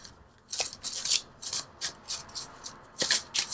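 Enchanted Map Oracle cards being shuffled and drawn in a quiet room: a series of soft, papery riffles and brushing bursts, close and moderately loud, with no talking.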